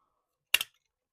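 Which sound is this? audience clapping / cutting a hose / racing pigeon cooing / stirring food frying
cutting a hose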